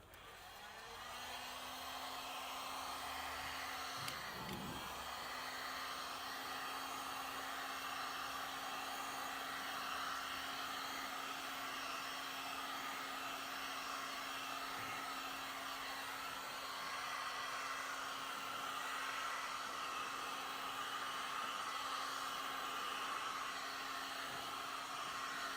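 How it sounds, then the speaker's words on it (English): A heat gun blows steadily on freshly applied plastic trim restorer, a constant airy whoosh with a steady motor hum, close and unbroken, with a brief bump near the start. "To help speed up the curing process, which would normally take a few hours, just break out a heat gun."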